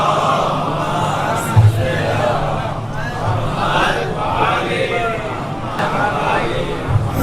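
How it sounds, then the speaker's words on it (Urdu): A large crowd at a Jashn-e-Wiladat celebration for Imam Hasan in Ahmedabad loudly chants salawat in unison, a dense wall of massed voices that holds steady and close for about seven seconds. "ایک بلند ترین نعرے صلوات سے ان کا استقبال فرمائیں"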